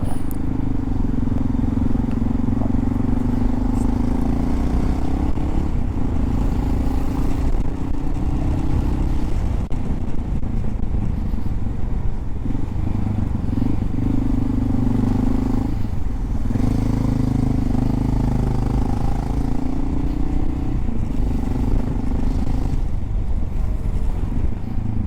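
A Honda XR650L motorcycle rides through a snowstorm, its engine droning steadily and loudly throughout under heavy buffeting wind noise, with slight shifts in engine pitch and no voices.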